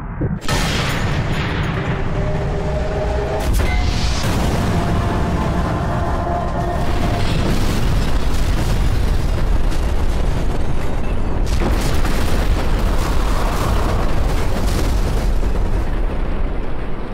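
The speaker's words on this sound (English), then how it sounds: "So we've made it out alive with no burn marks after blowing up two tanks." A fuel canister and two tanks blow up in Sniper Elite 3, a sharp opening blast followed by long, loud rumbling explosions and crackling debris that roll on continuously, with a second heavy burst partway through.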